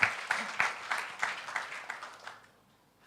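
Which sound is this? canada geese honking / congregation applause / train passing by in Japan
congregation applause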